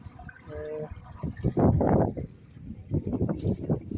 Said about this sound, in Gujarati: કુંડીમાં પાણી ચાલુ છે અત્યારે